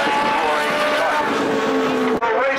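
Legends race cars roar around Tucson Speedway in a continuous, loud engine drone with shifting pitch as the pack passes, and an announcer talks over the noise.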